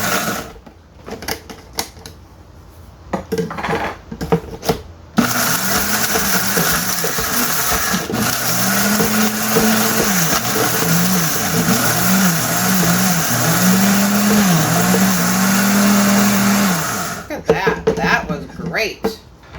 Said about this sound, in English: Now I'm just gonna whiz these up into powder.